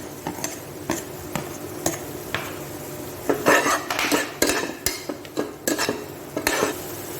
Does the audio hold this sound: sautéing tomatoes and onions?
yes